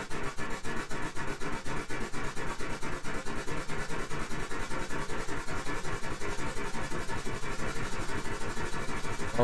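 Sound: steam train engine running in the video game Steam Engine Simulator

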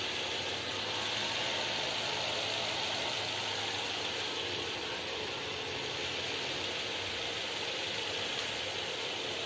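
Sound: MG ZS Alpha car engine idling after oil change

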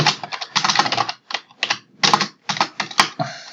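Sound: typing on a computer keyboard

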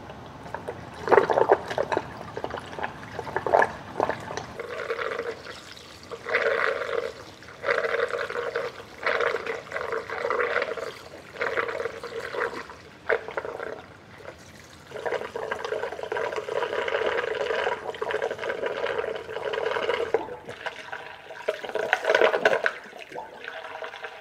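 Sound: pouring saw coolant from a square plastic bucket

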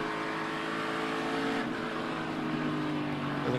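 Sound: NASCAR Cup race car spinning at Darlington

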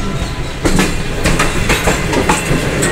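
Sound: Tezgam Express train entering Multan Cantt station

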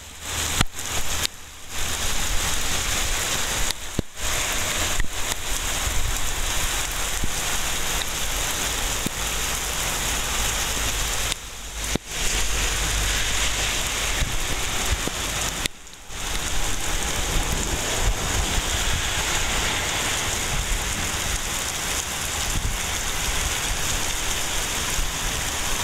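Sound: steady rain falling

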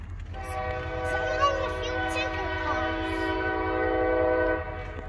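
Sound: freight train passing

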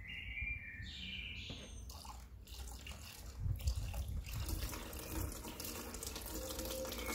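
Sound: petrol poured into a water-filled separator filter

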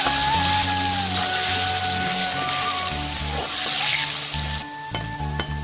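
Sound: potatoes frying in oil

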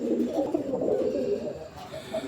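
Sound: pigeon cooing

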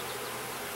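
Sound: honey bees buzzing in an opened hive

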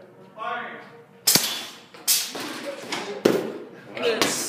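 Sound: FRC robot shooter firing a ball

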